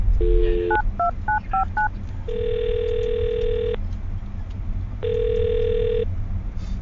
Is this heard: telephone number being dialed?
yes